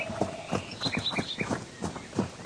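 Horse hooves clip-clop in the video game Horse World, a quick, even run of about a dozen close hoofbeats over a faint steady background hum.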